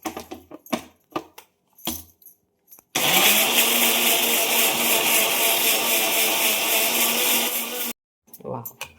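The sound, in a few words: mixer grinder grinding red chillies for tomato chutney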